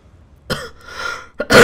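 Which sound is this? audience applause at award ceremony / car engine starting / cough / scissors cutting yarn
cough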